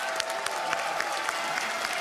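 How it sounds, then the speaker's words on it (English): Crowd applauding at an esports event, a Counter-Strike quarterfinal at ESL One Katowice 2015, a steady, dense wash of clapping from a large arena audience with no break. "Listen to the crowd for just a second."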